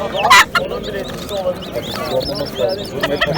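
Chickens and chicks at a poultry market, with clucks and chirps scattered throughout, close and busy, under people talking.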